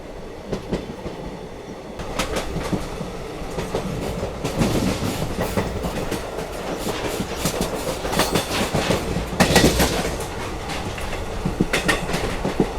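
An Indian Railways passenger special between Jhansi and Pune, hauled by a WG9 locomotive, rumbles along loudly with steady clickety-clack of wheels over rail joints, heard from on board.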